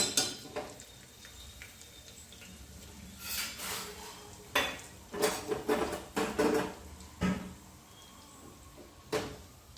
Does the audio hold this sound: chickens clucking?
no